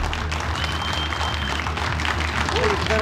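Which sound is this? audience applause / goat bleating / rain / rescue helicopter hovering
audience applause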